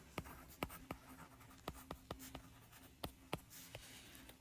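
Pen or chalk writing an equation, a series of close, faint, quick taps and scratches in an uneven rhythm, about a dozen strokes, over a quiet hum with no talking.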